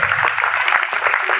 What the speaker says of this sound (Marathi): ह्या दयानांसाठी सर्वांनी जरूर टाळ्या वाजवायच्या आहे